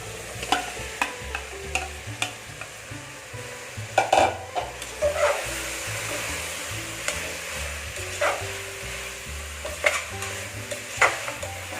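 Cut carrot, beetroot, potato and beans tossed into a frying vegetable pulao, a steady low sizzle under repeated scraping and clinking of a spoon against the pan, with a few sharper knocks along the way.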